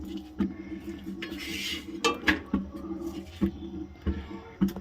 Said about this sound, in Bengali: এটাকে এখন শুধু তেল দিয়ে নাড়া হচ্ছে কড়াই।